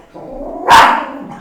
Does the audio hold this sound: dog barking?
yes